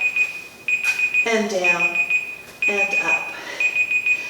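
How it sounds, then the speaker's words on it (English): An electronic alarm keeps beeping in a high, rapid, steady pattern during a wall yoga session, running beneath an instructor's spoken cues. "I think that's our alarm."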